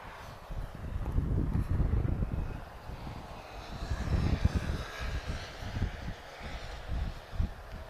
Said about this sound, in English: That's a beautiful touchdown there.